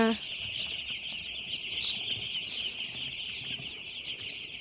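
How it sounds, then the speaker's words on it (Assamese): Three-day-old broiler chicks cheep continuously in a dense, high chorus, steady and close throughout with no pause. "চাওকচোন এয়া ব্ৰইলাৰ পোৱালি"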